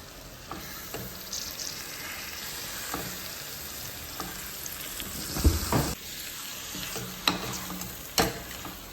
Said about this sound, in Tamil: சிக்கனை போட்டு நல்லா மசாலா நல்லா மிக்ஸ் ஆகிற மாதிரி மிக்ஸ் பண்ணிக்கலாம்.